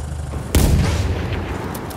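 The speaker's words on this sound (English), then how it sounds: "I like how it's got the explosions" A heavy blast goes off in the Battlefield 1 video game, a loud sudden boom that decays into rolling rumble with faint distant crackles afterward, with no talking.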